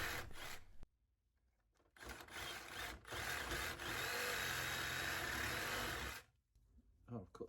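A hacksaw cuts through a 2010 VW Polo 1.2 petrol starter motor in a steady rasping run of strokes lasting several seconds, close and loud, bracketed by brief quieter moments with faint talk.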